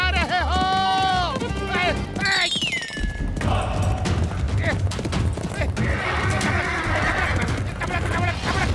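A cartoon horse whinnies loudly in a rising, wavering cry over the first few seconds, then busy music and voices take over.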